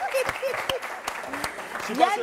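Applause from a live midday talk show audience: a fairly steady patter of clapping at moderate volume, mixed with overlapping voices.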